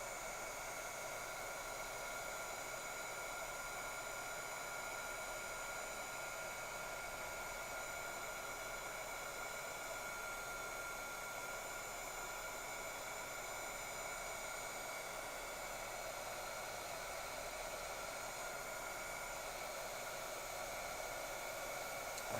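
A heat gun warms embossing powder on a gilded gourd, giving a constant, even airflow hiss and hum that carries on unchanged the whole time at a moderate, close level, with no voices.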